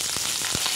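Green chillies fry in a tablespoon of heated oil, giving a brief, dense sizzle with a couple of soft pops, close and alone without talk.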